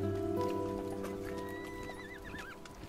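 Horses neighing and whinnying in the strategy video game Rome: Total War Remastered, a couple of wavering whinnies over hoof clip-clop and steady ambient battlefield background.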